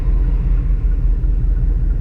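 A cammed Chevrolet Silverado truck engine rumbles steadily while driving, a loud, deep, continuous drone with a slightly uneven low throb and no voices.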